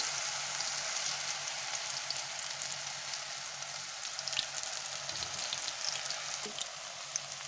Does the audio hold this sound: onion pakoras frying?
yes